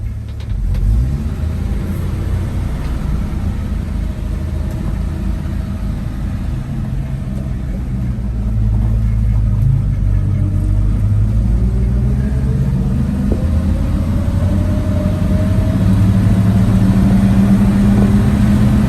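A 1956 Chevrolet 3100 pickup engine drives steadily, with a continuous low rumble that grows slightly louder and fuller about halfway through as the truck picks up speed. No voices are heard.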